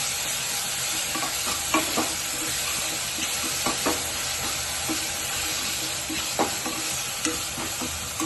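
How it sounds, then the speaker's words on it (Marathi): Green peas and chilies sautéing in a pan with turmeric, a steady loud sizzle with repeated scraping stirs and clinks of a spoon against the pan, close up, no voices. "आता ह्याला 2 मिनिटं आपण परतून घेऊया."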